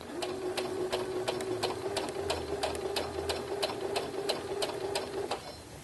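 A sewing machine runs steadily, stitching a set-in shirt sleeve, with a constant motor hum and a rapid, even ticking of the needle for several seconds before stopping.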